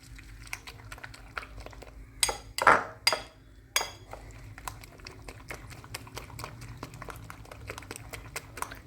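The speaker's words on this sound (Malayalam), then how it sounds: "ഇനി അത് നന്നായി മിക്സ് ചെയ്യുക." Omelette ingredients are mixed in a bowl, a rapid series of light clinking taps of a utensil against the bowl. A few louder knocks and scrapes stand out midway.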